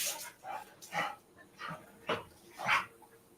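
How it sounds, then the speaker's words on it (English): Two dogs bark and snarl in a fight, with sharp bursts of barking, yips and whimpers rising and falling, fairly close, with faint human voices in the background. "Now a war has broken out over there between the two dogs."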